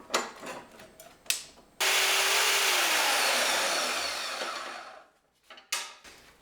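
A power tool cuts through a threaded steel link rod for a Jeep LJ antirock sway bar, a loud, steady whine lasting about three seconds that fades as the cut finishes, framed by shorter scraping bursts before and after.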